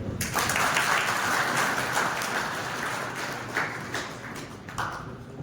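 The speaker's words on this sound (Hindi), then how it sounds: "ताली बजाओ सब भाई।" Crowd clapping steadily at a village celebration in Tarpura, Sikar, honoring a newly selected army lieutenant: dense, sustained applause throughout, with a few sharper claps near the end and no talk.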